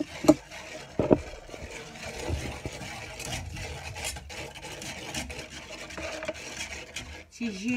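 A spoon stirs a caramel and banana dessert with starch in a pot, making soft, continuous scraping and rubbing strokes with a few sharper clinks of metal against the pot, close and fairly quiet.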